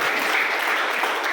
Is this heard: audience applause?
yes